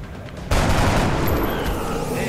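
Rifle gunfire in the video game XCOM Enemy Within opens with a sudden loud crack half a second in, followed by a sustained rattling burst and echoing tail that fills the rest of the short clip.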